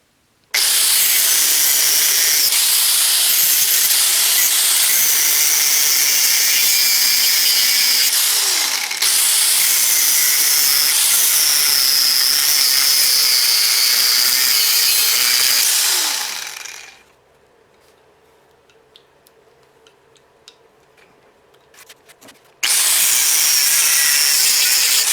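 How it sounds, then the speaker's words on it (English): A power tool saws through metal front torque mounts on a rusty Honda CR-V, a loud continuous high-pitched cutting whine that runs for about sixteen seconds, stops during a near-silent pause, then starts again abruptly. "So we're going to modify these right now and cut these apart."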